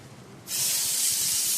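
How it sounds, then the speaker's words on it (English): Beef searing in olive oil in a hot pan for beef Wellington: after a quiet moment, a loud, steady broadband hiss bursts in and holds without pause, close and with no talking. "We're not cooking the beef, we're just searing it"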